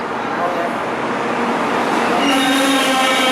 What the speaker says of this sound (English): Looks like a double-decker, Pete.